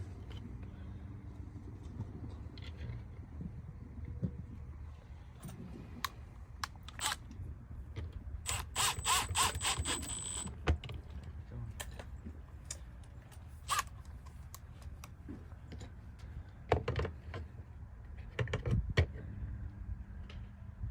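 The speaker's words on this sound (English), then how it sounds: "Making sure it's level when I screw it in." An outdoor electrical outlet being fastened into its box, with close, irregular clicks, scrapes and a short burst of rapid ratcheting from the screw and fittings, under a steady low background.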